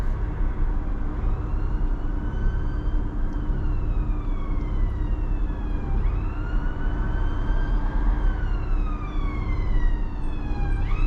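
An ambulance siren wails in rising and falling sweeps as it passes, heard over the steady rumble of a moving car in a 20 mph school zone in Northenden, Manchester.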